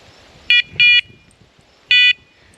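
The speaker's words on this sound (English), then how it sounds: "So every 8 seconds it's beeping." A gun dog training collar gives three sharp electronic beeps, two close together and then one more after a pause, loud and near over a quiet background.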